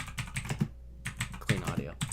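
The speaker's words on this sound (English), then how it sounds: "Oh, listen to his new keyboard." Clicky keystrokes rattle in quick bursts on a new computer keyboard, close and crisp, with a short pause midway and a faint voice murmuring underneath.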